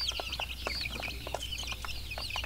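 A batch of one- to two-month-old chicks peeps and clucks in a free-range poultry setting, with many high, overlapping chirps in continuous bursts over a low steady background hum.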